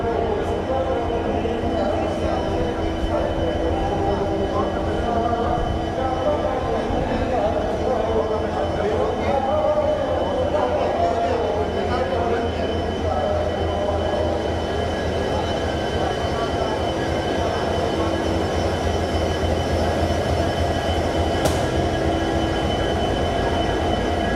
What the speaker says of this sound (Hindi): यहाँ से रेल थोड़ी देर में ये रवाना होने वाली है।